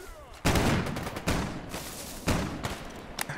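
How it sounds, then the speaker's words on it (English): Gunfire in the shooter game Stalker Gamma: several sharp, loud shots and short bursts crack close at irregular intervals, each trailing a brief rumble. "Quit shooting at me."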